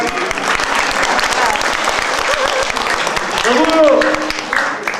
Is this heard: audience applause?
yes